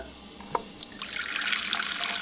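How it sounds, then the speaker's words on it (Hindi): Water is poured into a bowl to test a water-resistant phone, starting with a brief clink and then a steady, fairly loud splashing stream that continues to the end. "मेरे पास बाउल है, पानी डालते हैं इसमें।"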